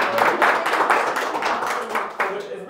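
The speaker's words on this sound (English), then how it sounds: "Let's give us a round of applause." A small audience at a marketing meetup claps briefly, a loose burst of hand claps in uneven pulses, close and moderately loud, with some voices mixed in.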